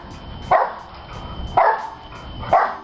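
Boxer dog jumping on a trampoline gives three sharp barks at roughly one-second intervals, close and loud, with quieter rustling thumps between them.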